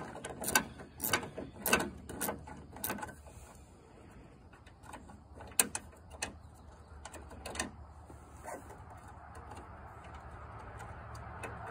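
Ratchet wrench working a bolt out of a car tail light, a run of quick close clicking bursts followed by sparser ticks and a faint background hum.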